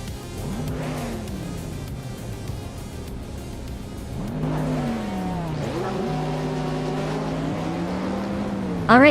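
Game race cars, including a 1996 Porsche 911 GT2, launch at the start of a race at Castle Combe, engines revving and rising in pitch through gear changes, loud and close, with several cars overlapping around four seconds in.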